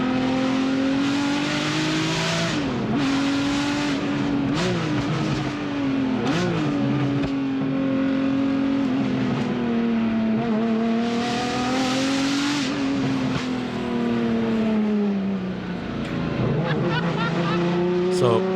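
A recording of a Ferrari engine plays, revving loudly and continuously through repeated rising and falling sweeps with a harsh, buzzing tone.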